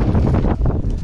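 Steady, loud wind buffeting the microphone with low rumbling gusts throughout, no voices.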